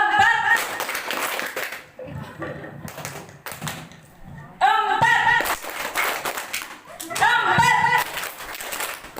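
Participants in a village-based micro-watershed training of trainers clap together in rhythmic patterned bursts, with pauses between rounds and a voice talking in the gaps.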